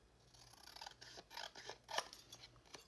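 Scissors trimming around the edges of junk journal garden cards, a short quiet run of crisp snipping and paper rustle close by.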